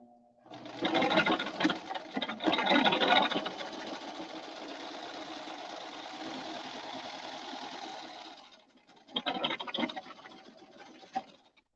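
A sewing machine stitching a fabric scrunchie runs steadily for about eight seconds with a few louder surges, pauses briefly, then whirs again in a shorter burst, close and clear with no talking.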